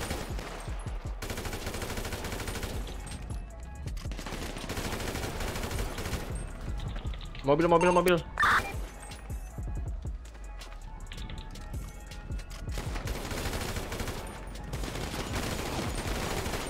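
Bursts of rapid gunfire from a GTA V roleplay session crackle through most of the stretch, loud and continuous, with a voice cutting in briefly partway through.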